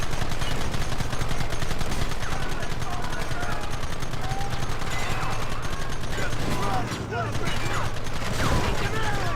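Western-style gunfire from the video game Red Dead Redemption, a dense, continuous barrage of shots and clatter over a loud bed of game sound, with voices talking intermittently through it.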